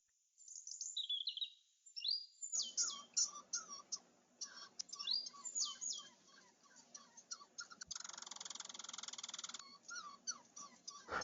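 Many small birds chirp and tweet in quick, overlapping calls, fairly close and lively. A steady hiss sits under the calls in the middle stretch. No one talks.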